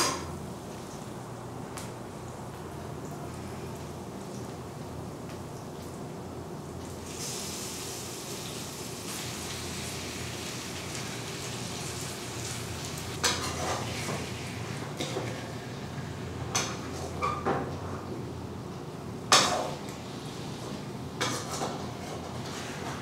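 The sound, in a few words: chicken being stirred and cooking in a pan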